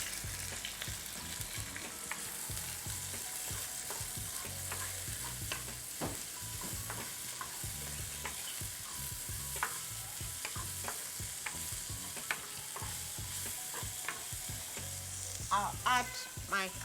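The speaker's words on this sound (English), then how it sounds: "Then I'll add my onions." Onions frying in oil in a pan for fried rice, a steady close sizzle broken by frequent clicks and scrapes of stirring, with no talking.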